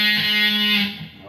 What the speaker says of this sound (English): do this little riff that sounds like this